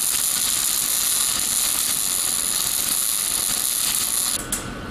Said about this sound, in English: I'm just going to go ahead and fire up the wire feed and tack that box right where it belongs